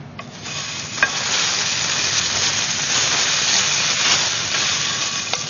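Rice flour cake pieces (bột chiên) fry in hot oil with a loud, steady sizzle and hiss close up, a few faint utensil taps over the constant crackle, no speech.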